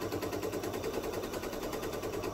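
Sewing machine stitching a quilt binding, a fast, even mechanical chatter running steadily and close throughout with no pauses or voices.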